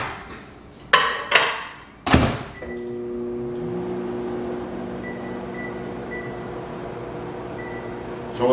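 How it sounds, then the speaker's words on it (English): A microwave oven heating homemade tamales: door thumps and button beeps at the start, then a steady, close hum of the running oven with a faint rattle and a soft knock at the end. "and we put them in the microwave."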